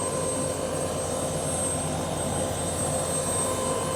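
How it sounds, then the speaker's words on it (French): A helicopter takes off at an airfield, a steady loud engine and rotor drone with a high turbine whine, no voices heard. "l'hélico, il y en a un là qui décolle"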